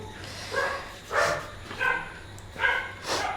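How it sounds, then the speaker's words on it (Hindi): A dog barks four times at a steady spacing, moderately loud and somewhat distant, with a faint hum underneath. "देखिए कुत्ता भौंक रहा है"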